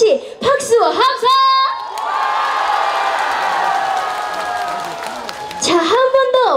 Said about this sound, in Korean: 좋으셨다면 다같이 박수와 함성!